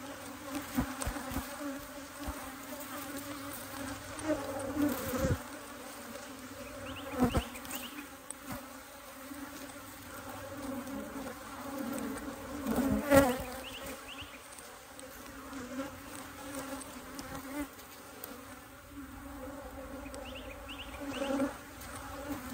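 Honey bees in an opened hive during a frame inspection buzz in a continuous, faint, droning hum, punctuated by occasional soft knocks and handling noises.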